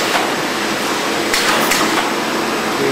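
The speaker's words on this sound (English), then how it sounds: "The machine is already getting ready to finish the next batch of sand." An abrasive pad cutting sheeter and stacker machine runs with a loud, continuous mechanical whoosh and clatter, with a couple of brief sharper surges midway.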